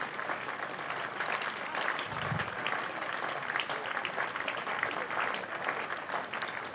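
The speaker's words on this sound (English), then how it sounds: "a round of applause, I'm sure, from all around the ground is going to greet Tom Curran as he heads off out for 115 off 93 balls" A cricket ground crowd applauds Tom Curran as he walks off after a century, steady broadband clapping spread across the stands, distant and continuous throughout with no break.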